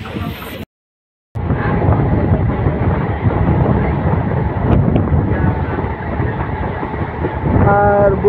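A passenger train runs on rails toward Tufanganj station, a continuous loud rumble and rattle with wind buffeting the microphone, broken only by a short dropout near the start.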